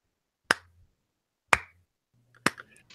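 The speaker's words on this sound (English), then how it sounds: "Slow golf clap for show." Three slow, deliberate hand claps spaced about a second apart, crisp and close, each followed by a short decay into silence, a sarcastic golf clap.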